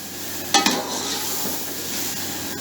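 Five hundred grams of tomato puree going into a hot biryani pot, a sharp clatter and splash followed by a steady, close sizzle of frying.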